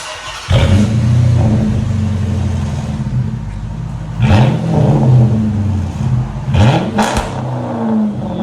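A loud 5.7L HEMI V8 engine of a 2006 Dodge Magnum R/T with a muffler delete revs repeatedly, deep rumbling idle punctuated by several sharp throttle blips, close by.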